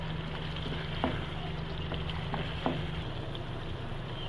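Almond and coconut powder roasting in a pan for korma makes a continuous soft sizzle and hiss, with a couple of faint scraping stirs partway through.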